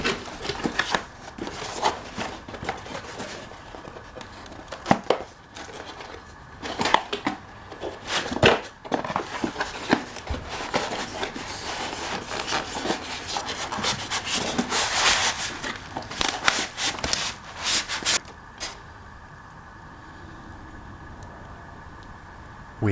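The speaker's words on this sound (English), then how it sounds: "so let's do a little unboxing." Speakers are unboxed from retail packaging in close, continuous rustling, rubbing and crinkling of cardboard and plastic with scattered bumps and tears, ending in a quieter stretch.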